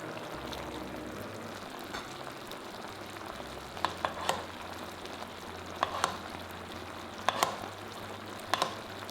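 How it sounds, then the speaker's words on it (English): Stuffed mushrooms cooking in sauce in a covered pan, a low, steady bubbling sizzle with scattered crackles and spitting pops recurring every second or two, close and unaccompanied by talk. "Pour in the sauce. Cover the lid. And let it cook for another 3 minutes until completely cooked through."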